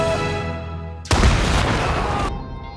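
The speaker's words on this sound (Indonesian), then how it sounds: "Perrin memancing semua penjaga di luar markas Poppy yang ikut meledak bersamanya." A sudden loud explosion from a Kingsman film scene bursts in after a sustained tonal soundtrack, holding a broad, roaring blast for over a second before cutting back to the music.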